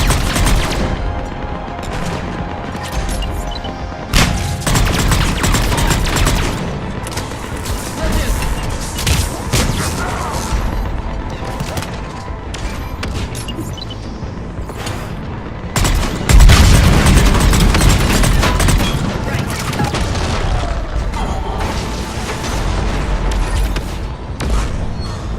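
Cannons and heavy gunfire boom repeatedly through a chaotic video game battle, with loud dense blasts, explosions and a sustained roar running throughout, a heavier burst partway through, and occasional voices mixed under the din.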